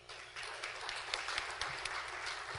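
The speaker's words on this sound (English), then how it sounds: "please give yourselves a round of applause" Applause from attendees at a community celebration and awards event, a short burst of fairly faint, steady clapping lasting a couple of seconds with no voices.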